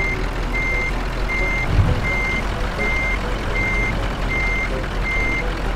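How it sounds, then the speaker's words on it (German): Reversing beeps from a truck in Euro Truck Simulator 2, a steady evenly spaced electronic beep repeating about eight times over a constant low engine rumble, with a brief thump partway through. "wenn ich jetzt einfach nur rückwärts fahre, ganz stumpf, Räder schön gerade"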